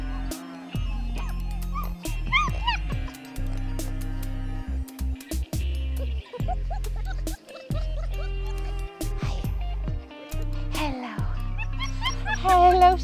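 Several puppies whimper, whine and yip in high, broken bursts close by, while a person talks softly to them throughout.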